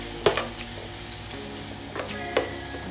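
Carrots and paprika fry in a pan with a steady low sizzle, broken by a few sharp scrapes of a spoon stirring; quiet and close, with no talking.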